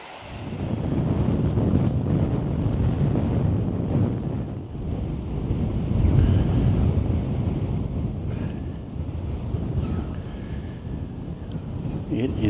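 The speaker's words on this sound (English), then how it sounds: "It is very windy" Strong wind on an outdoor trail roars continuously and buffets the microphone, swelling and easing in loud, rumbling gusts with no pauses.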